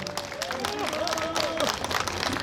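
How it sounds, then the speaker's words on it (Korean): A crowd claps steadily and densely at a Korean Vietnam War veterans' press conference, with a voice faintly carrying over the applause. "우리 임중근 위원장님께 다시 한번 우려와 같은 박수, 큰 박수 부탁드리겠습니다"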